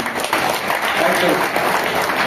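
An audience at a stage event applauds loudly, dense, sustained clapping from many hands that fills the whole moment evenly, fairly close and without any pause.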